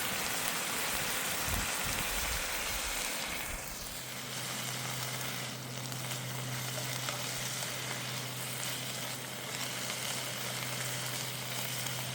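Minced meat fries in a pan on a camping stove with a continuous close, hissing sizzle. A few scraping stirs come early on, then a low steady hum from the stove runs under the frying.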